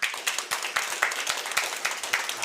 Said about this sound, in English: I'd like to give a big round of applause to all the people